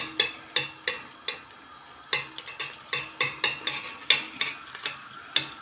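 Tomato paste sizzles in a hot pan while a utensil scrapes and taps it in a steady, repeated rhythm, close by.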